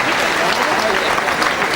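A boxing crowd applauds, a dense continuous wash of clapping and cheering at steady volume throughout the short moment.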